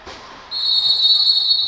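A referee's whistle at a women's roller hockey match cuts in after a brief pause as one long, loud, steady shrill blast that holds to the end over faint arena murmur.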